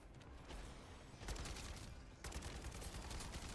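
Rapid automatic gunfire with incendiary rounds in MW3 Zombies, heard as dense crackling bursts with a short pause between them, loud and close, mixed with mechanical clatter.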